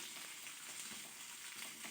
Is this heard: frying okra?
yes